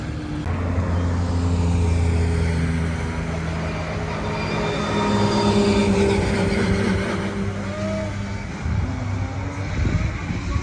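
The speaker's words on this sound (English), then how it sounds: "I'll film some cars going by full speed" Race cars roar past at full speed during the Nürburgring 24 Hours race, heard from a spectator spot beside the track. Loud engine drones rise and fall over a dense, steady crowd and circuit din, with no clear talking.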